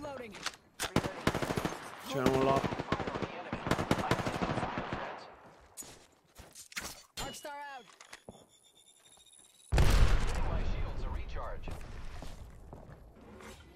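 Rapid bursts of automatic gunfire in the video game Apex Legends crackle in clusters with sharp single shots and short gaps, while a voice speaks briefly between the volleys.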